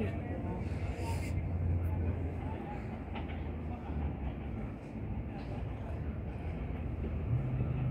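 A Trenitalia metropolitan service train pulls into a platform at Torino Stura station, a continuous low rumble and rolling clatter filling the scene while a public address announcement plays over it.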